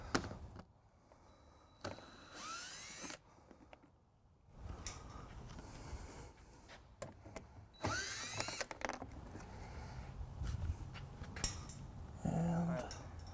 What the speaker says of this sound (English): And we'll just be using the drill.